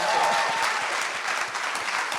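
A panel audience claps for Alvin after his Forbes 30 Under 30 mention, a dense, steady wash of applause that carries evenly through the whole moment without any voices.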